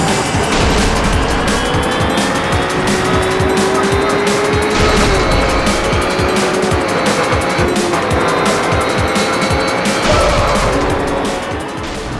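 Race cars roar through an arcade-style racing video game with a continuous loud engine drone, tire squeals and skids as the cars brake into corners, and no talking.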